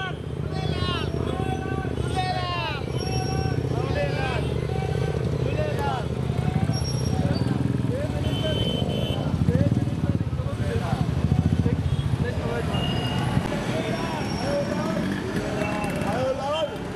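Motorcycles at a Sindhi community bike rally in Valsad rumble in a continuous low engine drone under lively crowd chatter and shouting voices.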